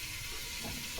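Food frying in a pan, a soft steady sizzle with a faint hiss running evenly through a brief moment, quiet and close, with no talk.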